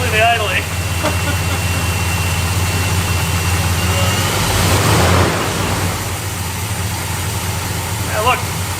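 A car engine idles steadily throughout, a continuous low rumble with a brief louder swell midway, while people talk over it at times.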